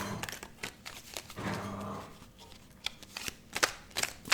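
Tarot cards being reshuffled by hand, a series of soft papery riffles and flicks in irregular bursts, close and fairly quiet with no talking.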